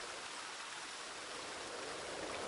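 Water flows steadily through a gap in the Das Schwarze Auge: Satinavs Ketten video game, a soft, even rushing wash like a small stream, quiet and unbroken throughout.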